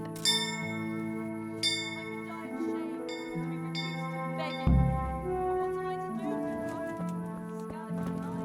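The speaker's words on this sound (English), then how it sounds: "Oh, this bell?" Bell rung in the medieval game Kingdom Come: Deliverance, a bright metallic clang with ringing overtones struck several times at irregular intervals over a steady tonal music bed, with a heavier low thump midway.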